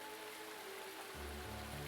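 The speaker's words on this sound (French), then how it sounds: "bouillonne un torrent plein de vie. Il y a le souffle, le murmure, le grondement, et puis toute cette eau" A mountain torrent near a waterfall gives a constant, dense rush of water that fills the whole clip. It stays soft and steady, with no voices.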